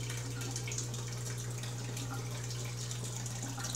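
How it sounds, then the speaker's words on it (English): Pump draining water from a fish tank in a fish room water change system: a steady, continuous watery rush and trickle with a constant low motor hum underneath, no talking. "this pump is draining the water faster than the overflow systems pour it in"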